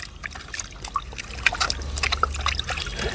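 Water trickles and splashes over a watermelon being washed by hand, with a steady low running stream under scattered brighter drips and splashes, fairly close.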